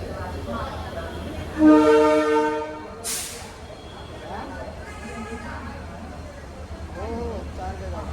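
A train horn sounds briefly amid rumbling rail noise, followed by a hiss of air, with people talking in the background.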